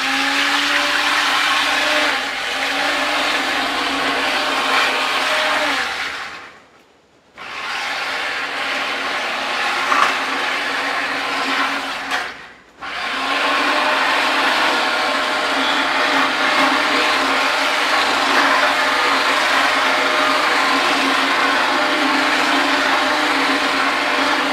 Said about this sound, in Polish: Mieszam i jednocześnie napowietrzam tym takim mikserem.